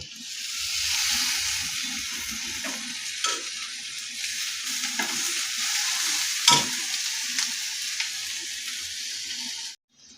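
Spices and chili powder frying and being stirred in a pan for a gourd kofta curry, giving a steady close sizzle with occasional scraping stirs throughout before cutting off at the end.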